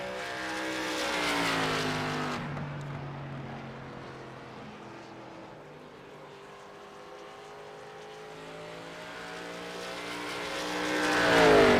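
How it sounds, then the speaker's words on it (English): Mountain Dew Chevy Camaro stock car in Xfinity Series qualifying at a race track, its engine droning with strong harmonics that swell near, fade as it pulls away, then rise again at the end, with no talk. "He's bringing the Mountain Dew Chevy Camaro out on track."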